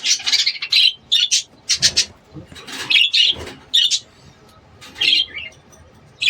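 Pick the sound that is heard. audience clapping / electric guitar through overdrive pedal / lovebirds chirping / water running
lovebirds chirping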